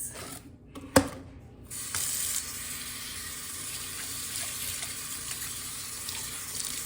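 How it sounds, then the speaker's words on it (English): A tap runs steadily while conditioner is rinsed out of a wig, a soft continuous splash and spray at moderate distance, with a brief clunk near the start. "I finished rinsing out the conditioner out of my wig"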